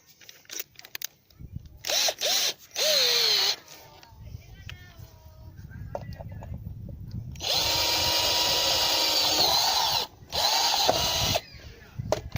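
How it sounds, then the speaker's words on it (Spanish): A power drill with a number 7 bit bores through the plastic wall of an IBC tank, running in several loud bursts of whirring, the longest lasting a few seconds, with quieter handling noise between them. "Yo la broca, en este caso es una broca del número 7. Procedemos."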